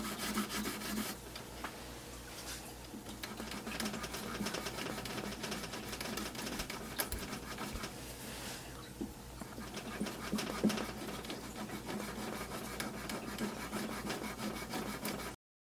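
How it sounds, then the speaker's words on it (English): Steady back-and-forth abrasive rubbing of Stewmac fret erasers polishing the metal frets on a nylon string guitar neck, a continuous close scrubbing that runs throughout without talk. "Then I use Stewmac fret erasers from 400 grit to 8000 grit to do the"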